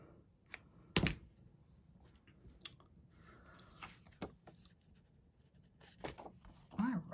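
Card paper for a handmade tie card is trimmed with sparse, quiet scrapes, clicks and slicing strokes in a calm room, and a sharper handling rustle comes near the end.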